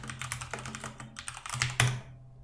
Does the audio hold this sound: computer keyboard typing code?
yes